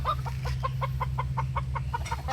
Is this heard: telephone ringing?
no